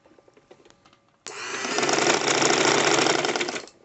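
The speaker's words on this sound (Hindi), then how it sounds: "इसी तरह से सीधी सिलाई लेते हुए हम घेरे की तरफ जाएंगे।" A sewing machine stitches a straight shoulder seam on a child's kurta, starting abruptly after a quiet moment and running steadily at close range for over two seconds before stopping.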